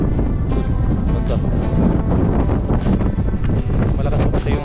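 Strong wind blows steadily into the microphone as a dense, continuous rumble with sharper gusty bursts throughout, loud and close.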